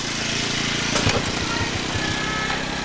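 A Yamaha motorcycle engine runs at a steady idle nearby with a low, even pulsing throb. A brief rev swell rises in the middle, and a voice speaks over it.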